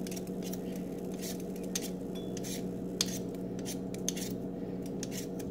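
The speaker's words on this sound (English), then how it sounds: "So I'm peeling the potatoes now to add to my pot of vegetable." Potatoes peeled with a peeler, a quiet series of rapid scraping strokes repeating in an irregular rhythm over a low background hum.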